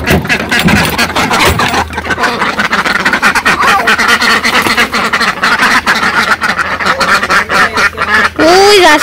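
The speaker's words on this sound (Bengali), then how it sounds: "আজকে হাঁস ছাড়লো" Ducks quack in a Bangladeshi village yard after being let out, a busy run of loud, close calls over a dense, noisy background, with a sharper burst of quacks near the end.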